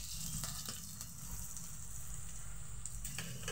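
Minced garlic and a very hot chili fry in oil in a pan for a raw banana curry, giving a steady, close, continuous sizzle with faint stirring and no talking.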